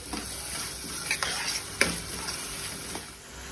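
Chopped onion frying and being stirred in a pan for sev usal, a steady close sizzle with scattered spoon scrapes and light clinks, no talking.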